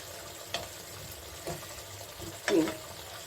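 A milk paneer dish cooks in butter in a pan, with a soft, low sizzle under three distinct scraping stirs about a second apart, the last one loudest.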